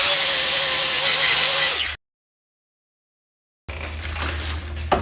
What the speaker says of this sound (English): I'm gonna grind all that flat.